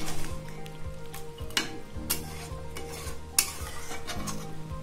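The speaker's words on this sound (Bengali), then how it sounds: "একটু হলুদ দিয়ে দেব, ভালো করে নেড়ে ঢাকা দিয়ে দেব" Chili chicken with turmeric stirred in a pan, a steady close sizzle broken by several sharp spatula scrapes and knocks against the metal, with no voices.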